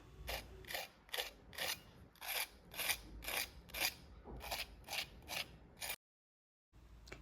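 Crispy poha and suji breakfast snack being chewed close to the mic, a dozen rhythmic crunchy bites in steady succession, then a brief silence and one more crunch, with no talk.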